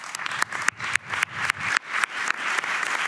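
An audience applauds award winners on a main stage, a loud burst of clapping with sharp, irregular individual claps standing out throughout, no voices.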